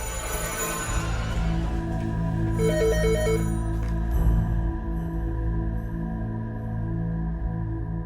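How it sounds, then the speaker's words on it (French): A telephone rings on a summer evening in 1982, a repeating electronic ring over a steady low background hum, moderately loud and alone without talking. "La sonnerie du téléphone donc retentit."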